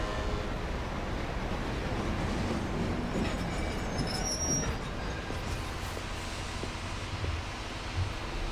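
Train in Final Fantasy XIII Lightning Returns rumbles steadily with a broad continuous roar, faint wheel squeals and clatter overhead, holding an even level throughout with no voices.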